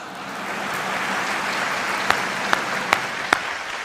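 An audience claps steadily during a comedic monologue about engineers in heaven, sustained moderate applause with a few sharper, louder claps near the end.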